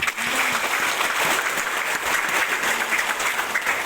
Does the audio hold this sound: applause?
yes